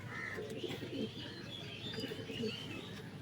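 Pigeons cooing in a loft at feeding time, soft repeated low coos overlapping with light chirps and faint wing flutters, steady and fairly close, no talking.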